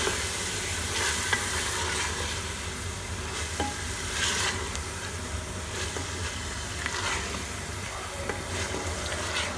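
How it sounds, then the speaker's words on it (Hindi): Chicken being stirred and fried with mashed turnip for shaljam gosht, a loud continuous sizzle with repeated scraping strokes of a spoon against the pan, no voices. "अब मैं इसमें जो चिकन है वो शामिल कर दूँगी और अच्छी तरह से इसे चिकन के साथ हम मिक्स कर लेंगे"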